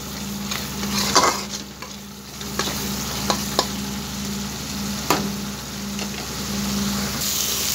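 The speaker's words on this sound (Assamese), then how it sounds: "আৰু অলপ সময় এখিনি মই ভাজি লম" Spice masala frying and being stirred in a pan for a fish curry: steady close sizzling with a low hum, broken by several sharp clicks and scrapes of the spoon against the pan.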